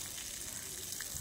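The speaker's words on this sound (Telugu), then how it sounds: "ఈ నీళ్ళు పోస్తున్నారు" Water being poured out in a residential street, a steady close splashing gush heard alone at a modest level.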